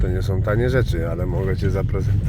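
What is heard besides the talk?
None of the usual background noises is heard.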